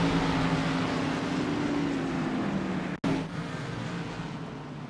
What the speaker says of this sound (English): His motor's blowing.